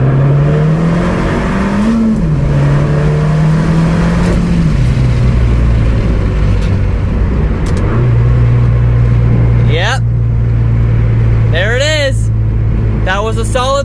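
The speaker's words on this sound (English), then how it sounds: "That was a solid pull, no breakups whatsoever. And she was scooting." A 10th gen car engine drones loud and steady through a full-throttle pull, its pitch climbing and dipping through the gears from inside the cabin. Short high-pitched squeaks and a voice come near the end.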